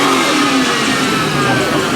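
Car engine revving loudly at an outdoor car show in Destin, Florida, a sustained mid-pitched roar lasting the whole moment with no talk over it.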